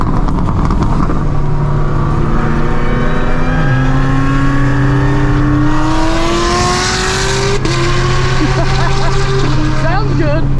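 A 1000 hp Corvette ZR1 race car engine revs and shifts through rising tones, loud and close, with a few upshifts and a whine that climbs over roughly ten seconds.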